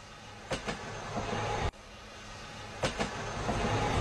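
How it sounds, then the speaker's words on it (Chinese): A model train rushes past in a film scene, a rumbling rail roar with sharp clattering bursts of wheels over joints recurring in pairs, close and loud, no voices. "画面上呼啸而过的火车并不是真的火车，而是火车的模型"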